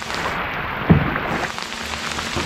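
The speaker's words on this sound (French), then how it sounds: "Il y a de la pluie, il n'y a pas de raison qu'on n'ait pas la grêle." Rain falling outdoors during a riverside cycling trip, a steady close patter of drops on surfaces with one brief louder knock partway through, no voices.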